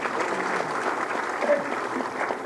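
An audience claps for Uttar Pradesh's deputy chief minister at an investor summit event. The applause is dense and continuous and fills the whole stretch.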